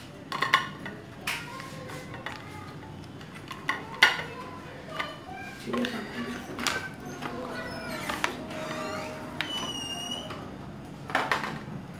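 A spoon scraping and scooping frozen homemade ice cream into a dish, with irregular metallic clinks and taps against the bowl, close and clear over faint room noise.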